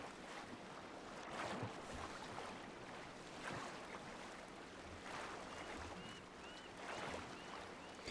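Sea waves wash and roll in the video game Sons of the Forest, with wind and water noise forming a steady, moderately loud ambience and swells recurring every couple of seconds; no one speaks.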